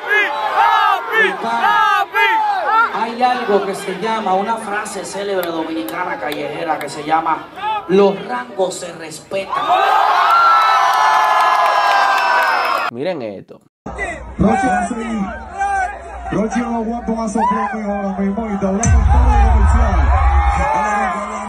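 A dense concert crowd chants and cheers at a Dominican show, with loud massed voices and rhythmic shouting rising in waves, broken by a brief drop before the roar resumes with heavy low rumble.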